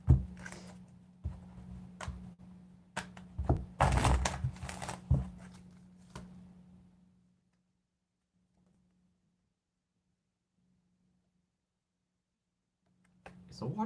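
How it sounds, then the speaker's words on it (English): Tarot cards are shuffled at close range in a series of crisp, irregular riffs and clicks over a low hum. The shuffling breaks off into near silence, then a faint stir returns at the end. "One more shuffle."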